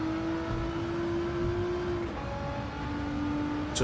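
A Nissan GT-R race car speeds down the straight at Tokyo in Gran Turismo 7, its engine holding a steady, loud, high-revving drone that dips briefly at a gear change before climbing again.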